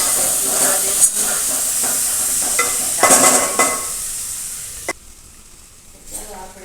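Chopped tomatoes with salt stirred in a pan over low heat for a vaghareli bajra rotlo dish, giving a steady close hiss and sizzle with scraping spoon knocks, then dropping to a quieter simmer.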